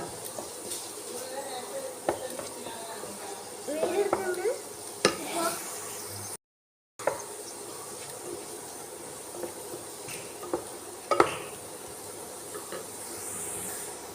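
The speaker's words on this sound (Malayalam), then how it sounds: "കുറച്ചൊന്ന് വെജിറ്റബിൾസ് എല്ലാം ഒന്ന് മിക്സ് ആകുന്നത് വരെ ഒന്ന് വഴറ്റി കൊടുത്താൽ മാത്രം മതി." Vegetables stir-fried in a pan for restaurant-style egg fried rice, with a soft steady sizzle and hiss and occasional scrapes and taps of a spatula stirring.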